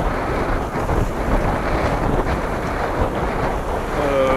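Fresh wind at about 17 knots roars across the microphone aboard a sailing boat at sea, a steady loud buffeting rush with water noise beneath it and no voices.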